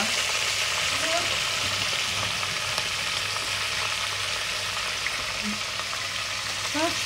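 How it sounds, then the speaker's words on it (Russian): Meat browning in oil for Uzbek plov, a steady close sizzle and crackle of frying that runs throughout, with faint background sounds. "Сейчас немножечко мясо подрумянится"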